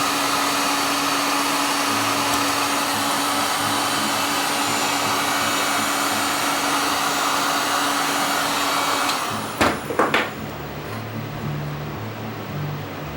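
A hot air tool blows steadily on a circuit board from underneath to desolder parts, a loud continuous airy hiss with faint clicks and knocks near the end.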